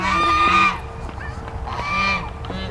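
White Chinese and Toulouse geese at a zoo honk in loud, brassy bursts, two clustered calls near the start and another round toward the end, with quieter rustling between.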